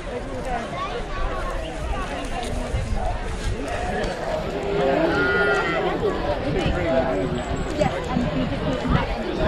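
Sheep bleat repeatedly amid a noisy flock, with people chatting close by over the animals.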